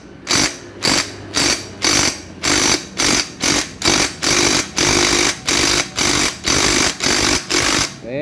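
An impact wrench hammers on a Honda GL 100 motorcycle engine in repeated loud bursts of about half a second each, roughly a dozen in a steady rhythm, close by with no talking.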